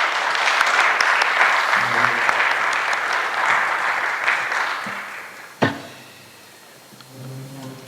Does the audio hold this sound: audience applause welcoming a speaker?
yes